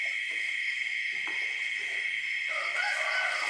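A rooster crows at night close to midnight, a faint, drawn-out call heard once or twice over a steady, loud chorus of crickets and insects, with no talking.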